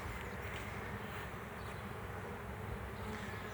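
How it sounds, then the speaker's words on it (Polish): Honey bees swarming out of a hive, a continuous soft buzzing drone of many insects throughout, fairly faint and steady with no other sounds. "Widać, wypływają pszczoły z ula."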